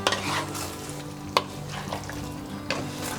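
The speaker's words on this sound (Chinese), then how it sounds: "这个芡汁可以调得稍微厚一点，给它搅拌均匀" Thickened starch sauce is stirred in a clay pot with a soft bubbling simmer underneath, broken by a few sharp clinks of the utensil against the pot.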